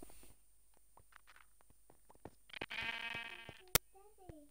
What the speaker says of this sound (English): No, we get a white sheep.